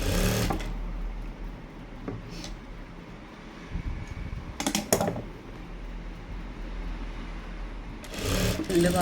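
A sewing machine stitches down the folded side edge of a pressed pleated skirt, running in a few short bursts separated by pauses, close and moderately loud over a steady low background hum.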